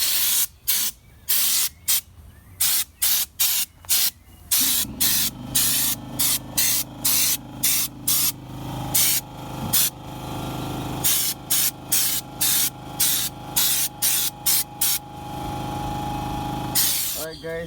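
A spray gun lays a second coat of Raptor liner coating on a trailer, working from the inside outward, in a series of short, loud hissing bursts followed by longer sustained spraying.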